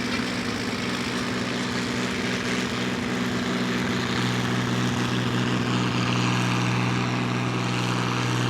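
A pulling tractor engine runs steadily throughout at a tractor pull, a loud, low droning rumble with a rough, uneven edge from the engine running poorly, and no talking.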